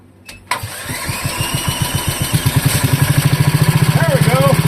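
A Wisconsin Model AB engine, freshly fitted with a muffler after being flooded, catches and settles into a steady, rapid chugging run that grows louder and more even, with a voice briefly audible.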